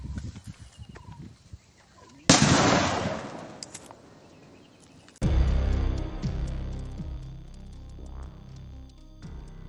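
Loud firecrackers burst outdoors, a sudden crackling blast followed later by sharp cracks and rumbling echoes over a low steady hum.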